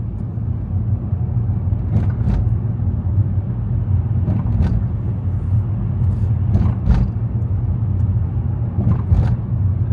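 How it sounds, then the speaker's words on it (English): Road traffic rumbles steadily past with a loud low engine drone and a few brief sharper swishes of passing vehicles, continuous with no talk. "The traffic isn't too bad, and the light level is fairly good"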